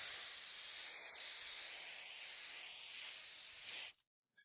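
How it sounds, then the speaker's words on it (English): A spray bottle mists water over leaf litter and pothos in a bioactive python terrarium, a steady close hiss lasting nearly four seconds before cutting off to silence. "Let's give it all a good spray now."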